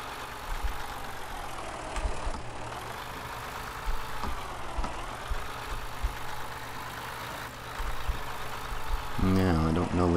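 Tractor engine idling in Farming Simulator 15, a steady low mechanical hum that holds throughout before a louder, rougher burst near the end.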